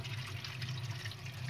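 Water poured over frozen-over ice inside a faulty refrigerator being repaired, a steady continuous splashing and trickling flow, close and fairly even throughout with no talk.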